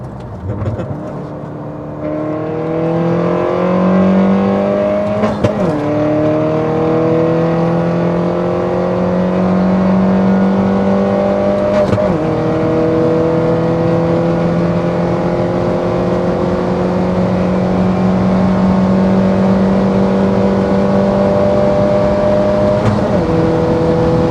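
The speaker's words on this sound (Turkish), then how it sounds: "Bir yine yavaşlayıp gazlayabiliriz istersen." Engine of a modified Peugeot 208 1.6 THP with a forged engine, heard from inside the car, drones loudly as it accelerates through the gears, with sharp clicks at each shift and the pitch climbing again after each one.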